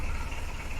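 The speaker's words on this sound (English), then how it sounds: "the cold start throttle advance is not attached, so it does cough a little bit when it first starts" A Citroen/Peugeot XUD diesel engine runs just after a cold start with the cold-start throttle advance disconnected, giving a brief, steady low clattering idle heard close and alone.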